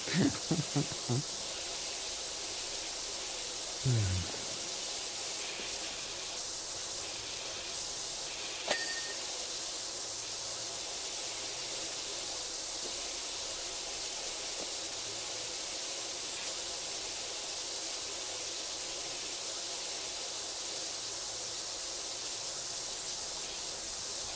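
A power washer sprays in PowerWash Simulator, giving a steady, even hiss that runs unbroken from start to finish at moderate loudness, with a few faint clicks near the start.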